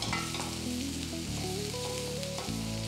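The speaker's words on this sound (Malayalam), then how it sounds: "ഞാൻ ഇവിടെ 3 കറിവേപ്പില ചെറുതായിട്ട് പീസസ് ആക്കി ഇടുകയാണ്." Chopped curry leaves sizzle in hot oil in a pan while a chicken meat roll filling is cooked, a steady close frying hiss heard under background music.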